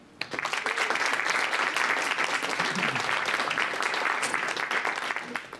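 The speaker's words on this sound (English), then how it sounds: "Please give a warm applause for Magnus Nordmo." Sustained audience applause fills a psychology science event in Oslo, a dense, steady wash of clapping from a sizable crowd that holds at an even level for several seconds before tapering off at the end.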